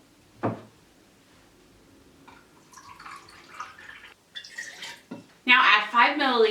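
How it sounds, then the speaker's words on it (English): Water poured into a glass jar in a home iodine clock chemistry experiment, a soft splashing trickle lasting a few seconds, with speech around it and a clear voice at the end. "Now pour 60 milliliters of water into jar B."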